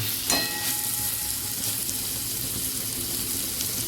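Masala spices frying in oil while cooking ghugni with kabuli chickpeas, a steady close hissing sizzle with a brief scrape or clink near the start and no talking.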